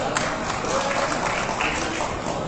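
Applause fills a hall at the PSSI football association congress, a dense, even wash of many hands clapping throughout, heard at a distance with no talk over it.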